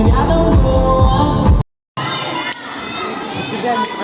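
A concert crowd in Yakutsk shouts and cheers loudly and continuously, broken by a brief moment of silence before the noisy crowd resumes.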